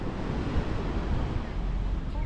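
Ocean waves at Uluwatu in southern Bali, near a famous temple, make a steady, rumbling surf wash while wind buffets the microphone throughout.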